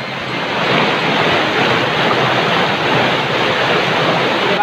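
Pihan River current in San Rafael, Antique, a loud, steady broadband rush of flowing water close to the microphone, uninterrupted for the whole stretch.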